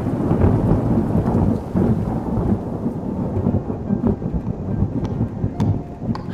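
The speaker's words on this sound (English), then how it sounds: "We got the thunder and lightning." A heavy thunderstorm with a deep, rolling rumble of thunder over the steady roar of pouring rain, loud and continuous throughout, with some wind mixed in.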